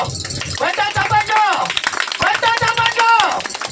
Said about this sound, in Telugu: ఇప్పుడు కొత్త చప్పట్లు